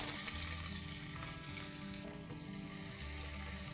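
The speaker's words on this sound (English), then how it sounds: "To this, I'm also adding in the sliced onions." Sliced onions frying in ghee with bay leaves, cinnamon, cardamom, cloves and black peppercorns, giving a steady close sizzle with faint watery crackle and no talking throughout.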